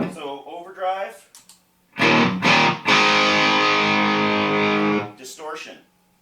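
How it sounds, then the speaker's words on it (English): An electric guitar through an overdrive pedal rings out a few crunchy strummed chords and then a sustained, gritty chord held for several seconds, with a person talking briefly before and after. "So there's a good example of an overdrive pedal."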